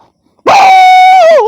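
A person imitates a dog with one drawn-out, whining bark-like howl, loud and close after a brief silence.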